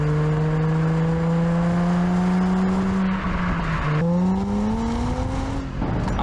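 Infiniti G35 with the VQ V6 engine and stock or lightly modified exhaust, a smooth droning exhaust note that rises steadily, dips and climbs again under acceleration, heard clearly without any talking.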